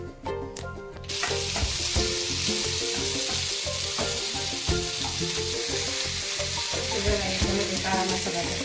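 Black masala spices hitting hot oil in a heated kadhai for a homemade baingan masala, a sudden loud sizzle that starts about a second in and holds as a steady crackling hiss, with stirring clinks throughout.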